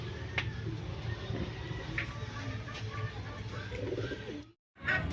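Racing pigeons coo in soft, repeated low calls from a loft of northern-line breeding pairs and squabs, with light bird chatter around them and a brief dropout near the end.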